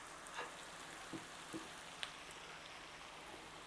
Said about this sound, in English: is frying these onions